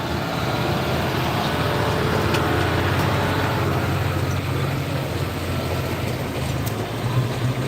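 A pulling tractor's engine roars steadily at an evening tractor pull in Cumberland, a constant, moderately loud low drone heard from a distance with no breaks.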